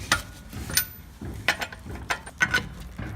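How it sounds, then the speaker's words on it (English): Wheel nuts on a car with a flat tire are loosened with a wrench, giving a series of close, sharp ratcheting clicks in short irregular bursts. "We're gonna unscrew some of the nuts"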